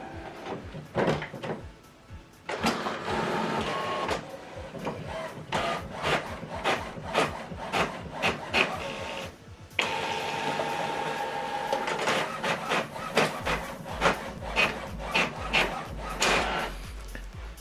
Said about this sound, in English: Now this document is going to print out.